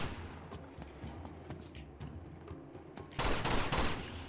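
Bursts of rapid gunfire and a heavier volley from a firefight in the PlayStation 4 remaster of the video game Uncharted 2: Among Thieves, crackling steadily with a loud dense flurry near the end, no voices over it.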